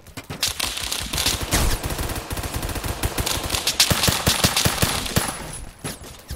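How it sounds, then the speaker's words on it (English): Video game shotgun combat amid heavy gunfire: rapid overlapping blasts and bursts of shots, loud and dense throughout, with a few sharper reports standing out. "I got me shotgun."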